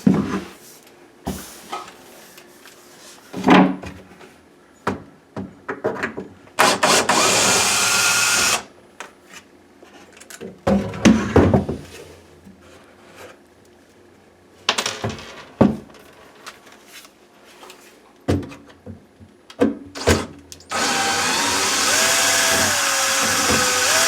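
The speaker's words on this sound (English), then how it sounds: "We'll go over to the other side and take those screws out now." Screws being driven out of kitchen cabinets with a power drill, short whirring bursts repeating at intervals with clicks and handling noise between them, close and fairly loud.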